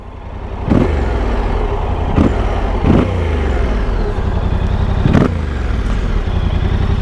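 Yamaha Ténéré 700 with a custom Akrapovic exhaust idling with a steady burble, punctuated by four sharp throttle blips that rise and fall quickly, close and loud.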